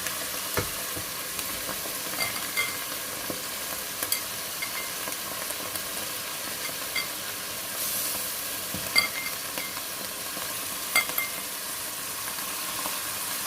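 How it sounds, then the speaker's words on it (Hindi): Washed lentils (masoor dal) roasting with spices in a pan for palak dal, giving a steady soft sizzle and hiss with occasional stirring clicks and scrapes, no voices. "ऐसे इसे भी भून लेते हैं, दाल को भी, ताकि मसालों के अंदर रच बच जाए।"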